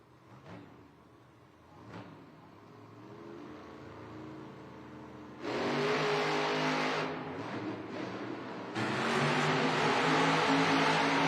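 Monster trucks Dragon and Grave Digger race head-to-head in an Oklahoma City arena, engines idling then roaring loudly into full revs, sustained and close, with crowd noise.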